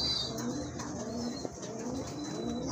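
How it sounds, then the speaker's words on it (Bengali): Beauty Homer pigeons coo softly in a loft, low murmuring calls repeating against a faint steady background, with a brief tap partway through and no voices. "আরেক জোড়া কবুতর, বিউটি হোমা কবুতর।"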